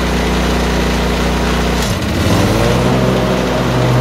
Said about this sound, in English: I go up full throttle and engage the blades